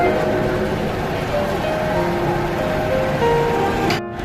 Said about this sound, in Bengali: এই যে আলু এখানে ধোয়া হচ্ছে মেশিনে